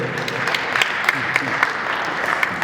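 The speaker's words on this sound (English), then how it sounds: "you gotta stop the time because they have to clap" An audience at an end-of-year community event applauds steadily, a dense and fairly loud wash of clapping that continues throughout with a few sharper individual claps standing out.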